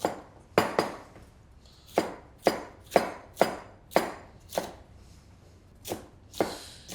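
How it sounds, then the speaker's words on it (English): A knife chopping red pepper small on a cutting board, a steady series of about ten crisp, close knocks with short pauses between, no voices. "Red pepper, we'll cut it quite small because we want it to cook quite fast."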